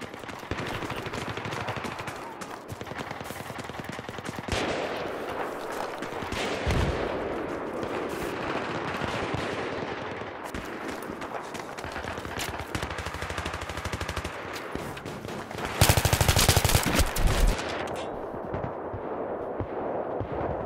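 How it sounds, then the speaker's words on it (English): Sustained gunfire in a video game, heavy machine-gun bursts rattling almost nonstop for twenty seconds with a louder, harsher stretch near the end, loud and close. "I feel like I'm getting destroyed by that gun."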